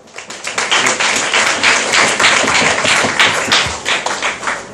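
Classroom audience clapping for a student, a dense burst of hand claps with sharp individual slaps standing out, loud and close, sustained without talk.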